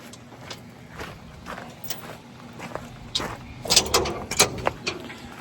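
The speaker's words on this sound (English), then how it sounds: "Open the door." A dump trailer door is swung open outdoors with light footsteps and scuffs, then a burst of close metallic clanks and rattles as the door hardware moves.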